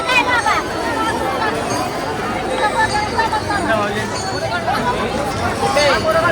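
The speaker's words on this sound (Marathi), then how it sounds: "एवढी गर्दी आहे ना इथे आता सध्याला" Dense crowd chatter fills a busy street where the roads are almost entirely closed off: a steady, unbroken murmur of many overlapping voices, with no single speaker standing out.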